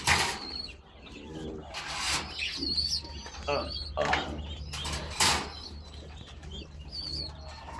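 Pigeons coo and flutter nearby on a rooftop pigeon farm in a steady low murmur, with occasional chirps and rustling, no speech, against a constant background hum.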